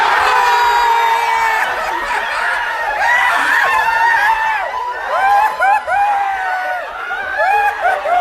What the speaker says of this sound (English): it's the funniest moment in like a group, just cheering for one of our boys